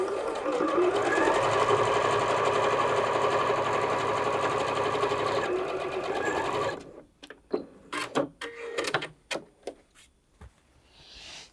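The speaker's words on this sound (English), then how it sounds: "So I'm just going to drop that down, drop my needle in, make a start." A Bernette B38 domestic sewing machine stitches through denim in a steady, fast mechanical whir for several seconds, then stops, followed by a few sharp clicks and knocks as the fabric and parts are handled.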